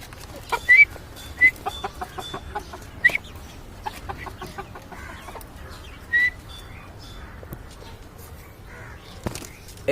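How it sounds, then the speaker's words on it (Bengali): A native backyard chicken clucks in short, scattered bursts, with a few sharper calls standing out over a low, steady outdoor background. "এই যে দেখেন মুরগিটা, এটা দেশি, এটা দেশি"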